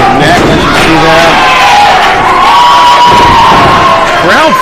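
A wrestling arena crowd at a Real Shoot Wrestling tag team match cheers and shouts loudly and continuously, with whoops and scattered yells rising over the steady roar.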